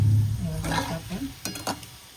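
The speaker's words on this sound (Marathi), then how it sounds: "थोडा लालसर असा रंग येईपर्यंत आपण त्याला तळून घ्यायचं आहे." Potato French fries frying in hot oil over a medium flame give a close, steady sizzle and bubbling, with a brief stirring or scraping sound midway.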